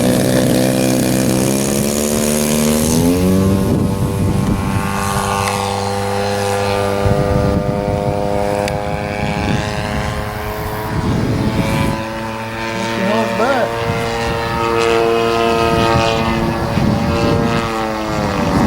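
A 50cc gas-powered RC airplane, a Revolver, on its maiden flight in windy weather, its engine droning loud and steady throughout, with pitch rising and falling as it throttles and passes overhead, no talk heard.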